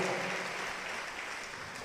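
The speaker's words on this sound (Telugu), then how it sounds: "గట్టిగా చప్పట్లు కొట్టండి, గట్టిగా కొట్టాలి" A church congregation claps loudly and continuously, a dense, even roar of many hands sustained throughout without voices on top.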